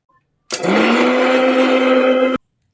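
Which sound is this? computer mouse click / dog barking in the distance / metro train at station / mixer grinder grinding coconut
mixer grinder grinding coconut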